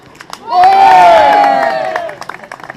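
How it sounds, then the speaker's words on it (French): A crowd at a trail running race in Lozère erupts in loud cheering and whooping, with scattered claps and shouts continuing as the roar fades. "Et pour Lionel, un maximum d'applaudissements."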